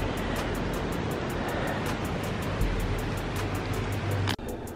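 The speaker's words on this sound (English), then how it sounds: "it's pouring rain" Steady, dense broadband hiss of heavy rain pouring without a break, with a faint low rumble underneath and a brief dip near the end.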